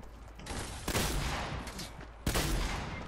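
A heavy shotgun fires in a video game with two loud, sharp blasts about a second and a half apart, each trailing into a noisy, crackling wash of reverberation.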